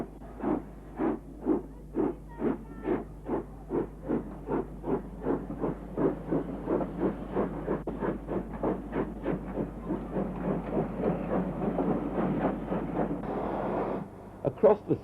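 LMS Jubilee steam locomotives working at Birmingham New Street station, with a rhythmic run of strong exhaust chuffs beating steadily and quickening slightly over time, ending in a few sharper, louder beats.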